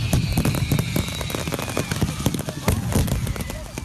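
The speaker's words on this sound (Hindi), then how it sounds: "पटाखों की गूंज ही सुनने को मिलती है" Diwali firecrackers burst in rapid, overlapping cracks and pops, a dense crackling barrage that continues loudly throughout, with a faint voice underneath.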